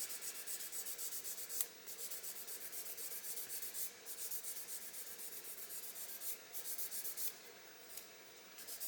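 Steady fine sanding with well-worn 600-grit sandpaper to remove sink marks goes on throughout, a soft continuous rasping with small pauses and shifts in stroke.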